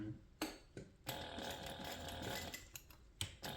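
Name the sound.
sewing machine stitching fabric seams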